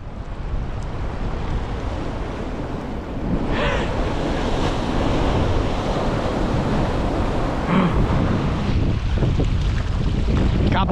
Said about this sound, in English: Couple bigger waves coming now.